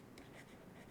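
Pen or pencil scratching steadily across paper while a calculation is written out, a soft continuous rasp close up with no voices.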